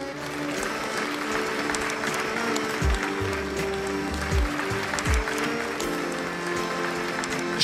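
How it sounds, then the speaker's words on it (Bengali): A theatre audience bursts into applause at the climax of a play. The clapping is dense and sustained, with low tonal sounds running underneath. "সমস্ত প্রেক্ষাগৃহ করতালির ধ্বনিতে ফেটে পড়ল।"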